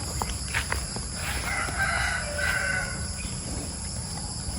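Chickens on a small farm are heard up close, with a rooster crowing loudly in a few bursts among softer clucking and a steady background hum.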